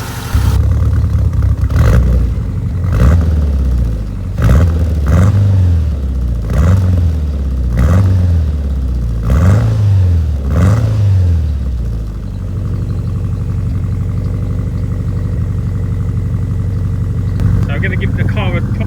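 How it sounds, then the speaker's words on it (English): A Ford Escort RS Turbo with a 1.6 CVH engine fires up and runs, loud and close, with a series of rhythmic revs that settle into a smooth, quiet, steady idle. "you can see how nice she starts up and how well she sounds for a CVH"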